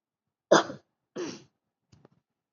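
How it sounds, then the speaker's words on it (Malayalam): A person with an irritated throat gives two short, sharp coughs close by, then a faint trailing breath, with silence in between. "അതുകൊണ്ട് ഞാൻ ചുമയൊക്കെ തന്നെ."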